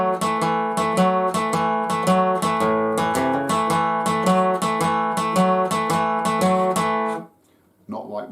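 A 1950s rock 'n' roll guitar riff, picked with steady downstrokes in a repeating rhythmic figure, played clearly and alone before ringing off and stopping near the end.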